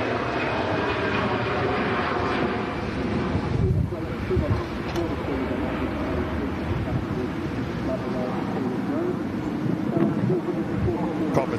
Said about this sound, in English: As we also see a TUI Dreamliner taxiing past us here at the RVP, another heavy departure coming up.